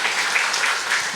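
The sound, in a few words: church congregation applauding to welcome new members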